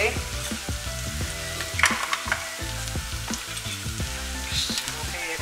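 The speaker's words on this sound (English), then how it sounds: "Just go ahead and continue to let this saute." Chicken pot pie ingredients sautéing in a pan with a steady sizzle, punctuated by scraping and clinking of a utensil stirring close by; no talking.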